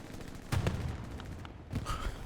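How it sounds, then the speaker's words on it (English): A rocket strike lands during a Hell Let Loose match on Omaha Beach, giving two booming, crackling blasts about a second apart amid a steady roar of background battle noise. "Rocket comes in for crazy boots."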